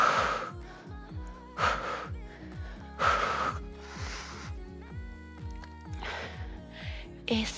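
Heavy rhythmic breathing during an at-home fat-burning cardio workout, with repeated loud gasping breaths roughly every second or so, close to the microphone and with no talking.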